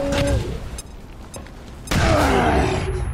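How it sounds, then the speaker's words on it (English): Grenade explosion in the video game XCOM 2, a sharp loud blast that cuts in abruptly and rumbles on with debris, preceded by quieter game sounds and a lull. "you're about to get grenaded!"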